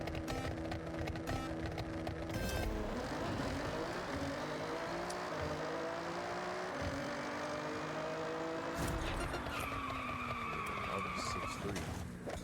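A Nissan GT-R revs and launches on a drag strip in Forza, its engine note climbing through gear changes with tire noise, ending in a high whine after a shift.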